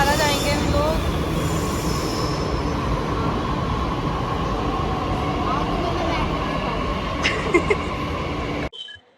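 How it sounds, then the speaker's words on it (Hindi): A metro train rumbles steadily close by as it arrives at a station, with a high wheel squeal early on, a few clanks near the end, then a sudden stop. "अब हमारी मेट्रो भी आ गई है।"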